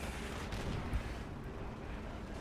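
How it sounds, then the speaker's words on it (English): Tank battle gunfire in Call of Duty: World at War, a dull low thump of distant cannon fire near the middle, set against a constant dense rumble of battlefield noise, fairly quiet overall. "Alright, now we got a tank battle."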